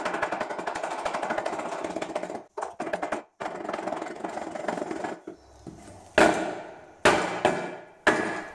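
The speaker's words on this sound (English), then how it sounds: "The hammering didn't really help much" Rapid, steady hammering on a soft wooden lumber block, then a brief pause, followed by several separate heavy knocks spaced about a second apart.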